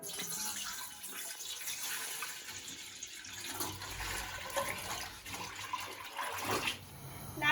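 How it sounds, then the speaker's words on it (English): Steady rushing, bubbling water noise of about 3 litres of rainwater boiling in a pot for an indigo dye vat fills the whole stretch, a continuous broadband churn with no voices. "the water's boiling"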